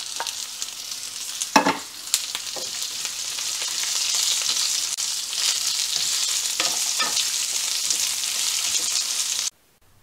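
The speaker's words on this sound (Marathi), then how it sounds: "आता या ठिकाणी कांदा आपण छान परतून घेतला." Lengthwise-sliced onion sautés in a pan with spices, ginger and garlic for an amti, making a steady, close sizzle with a few knocks of stirring early on, until the sound cuts off abruptly near the end.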